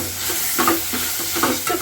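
Onion and capsicum fry with a spice paste in a pan for egg rice while a spoon stirs them, giving a close, continuous sizzle broken by rhythmic scraping strokes roughly every half second.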